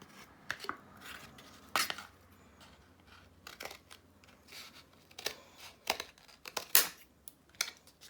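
Scissors snip through a cardboard toilet paper roll in a quiet room, a series of irregular, crisp cuts and crinkles, some sharp and close, spread across several seconds.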